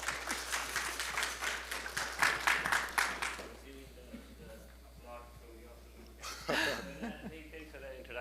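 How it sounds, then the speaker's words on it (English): An audience applauds at a tech presentation on AI for Ansible automation, a burst of dense clapping over the first three seconds that fades into a quiet room, with a voice talking afterward. "I'll applaud for you."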